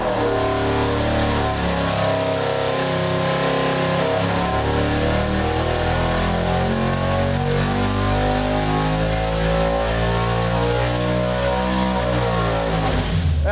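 Race-built 5.0L Coyote V8 on a dyno, revving hard in one long, steady pull that climbs in pitch, loud and close throughout with no talking.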